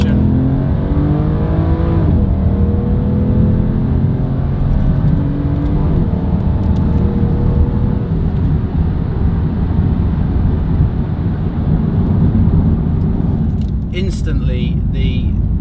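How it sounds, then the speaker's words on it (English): An Aston Martin DBS accelerates hard through its rev range and up through the gears, its engine note climbing and dropping at each shift, loud and continuous for the whole stretch. "So we're going to take the DBS through the rev range,"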